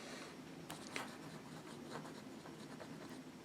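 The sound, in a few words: Pilot Custom 74 fountain pen with music nib writing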